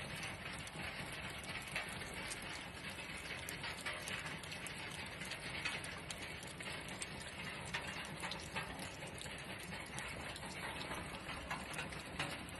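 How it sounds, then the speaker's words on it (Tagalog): Steady rain hissing and pattering on a surface, a dense continuous wash at low volume with no voices. "Tapos, umuulan ngayon."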